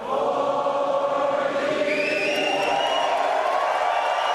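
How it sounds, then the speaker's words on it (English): A large rally crowd fills an aircraft hangar with a continuous roar of cheering and whooping, loud and sustained throughout, with rising shouts layered on top. "This crowd is massive."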